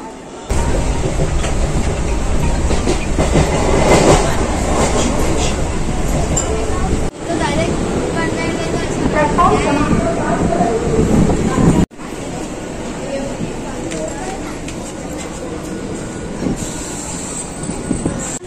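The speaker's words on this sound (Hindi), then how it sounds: "आता आपण अंधेरीला जायला ट्रेन पकडूया. ट्रेन येतेच आहे आपली." A commuter train bound for Andheri arrives at the platform and runs along the rails with a loud, continuous rumble, clatter and faint wheel squeal. Voices talk over it nearby.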